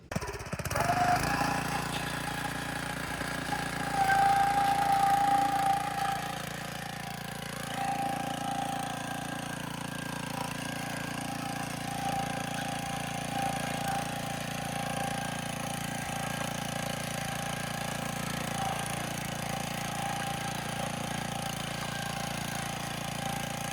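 A motorized walk-behind cultivator busts the middles between potato rows on a farm, loosening soil and cutting weeds; its engine runs steadily and close throughout, louder in the first few seconds, then holding an even droning chug.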